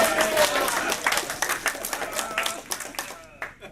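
Scattered audience clapping at an installation dinner, moderately loud and uneven, thinning into a few sparse claps before dying out near the end.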